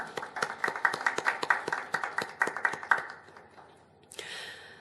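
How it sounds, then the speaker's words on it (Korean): Congregation clapping at a Korean Sunday worship service marking a church's 41st founding anniversary, a fairly close patter of many hands that fades out after about three seconds, followed by a brief rustle. "라고 응원하시고 박수 보내주시죠."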